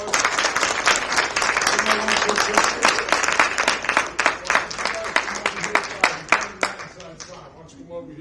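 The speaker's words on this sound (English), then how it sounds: "let's give him a big round of applause." An audience claps at a city council meeting, a burst of applause that thins into scattered individual claps as it fades, with voices talking over it.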